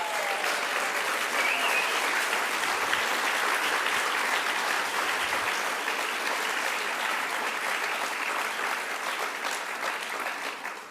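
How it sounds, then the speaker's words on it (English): Audience applause at a National Book Awards evening during the Miami Book Fair, a full, sustained round of clapping from a large crowd lasting about ten seconds before tapering slightly at the end. "I'd like to take a moment to applaud Mitchell Kaplan"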